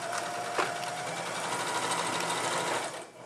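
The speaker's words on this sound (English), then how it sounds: "We're going to stitch the cuff together at the bottom edge with just a straight stitch." A sewing machine runs a straight stitch along the bottom edge of a Christmas stocking cuff, a steady fast motorized whir up close that winds down at the end, with no talking.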